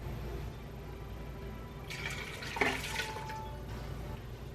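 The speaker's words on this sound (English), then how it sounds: "I'm gonna add some more water here because I know those beans are really gonna swell." Water poured into a pot of bean soup makes a brief rushing splash that swells and fades over a steady low kitchen background.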